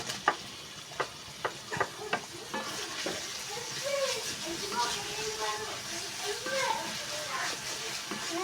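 Small onions sizzle and spit in hot oil with ginger and garlic while cooking a Kerala-style beef roast, opening with a few sharp stirring knocks before a steady frying hiss settles in, with a voice talking faintly over it.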